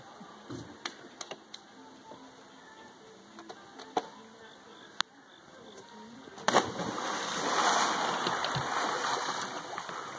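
A person jumps from a boat into a shallow river. Scattered small ticks and knocks come first, then a sudden close splash at about six and a half seconds, followed by sustained rushing, churning water.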